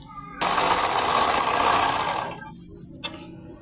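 A tabletop sewing machine stitches fabric along a shirt gown's neckline in one loud, even burst of about two seconds, then falls quiet apart from a couple of faint clicks.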